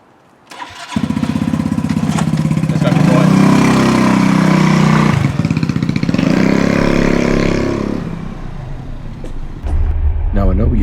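The engine of a Yamaha TriCity 125 motorbike starts and idles, then revs up and holds a loud, close, throbbing drone for several seconds before settling back toward idle. A voice is also heard.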